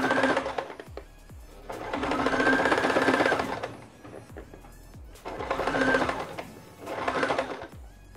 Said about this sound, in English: let me just get the sewing done quickly so you can see it